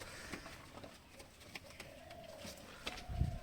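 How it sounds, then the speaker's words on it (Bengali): Pigeons coo quietly and intermittently amid light rustling and small clicks, with a brief low thump near the end. "এই হচ্ছে সব পায়রাগুলো"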